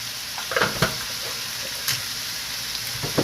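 Dry garlic frying in a pan for chicken in black sauce, a steady broadband sizzle with a few sharper crackles and pops scattered through, close and moderately loud with no voices.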